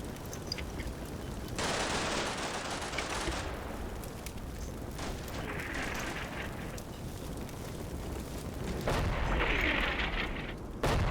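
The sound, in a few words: artillery shell exploding, from the video game Combat Mission Black Sea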